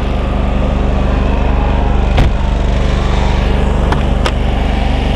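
A steady, low engine drone from the generator of a 2018 Newmar Canyon Star 3953 RV runs without a break, with a few brief clicks or knocks partway through and no talking.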